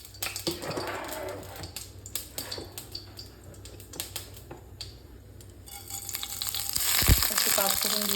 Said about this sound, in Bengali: আর এখন আমি এই যে লোবিয়া ভাজাটা কড়াইতে করে নেব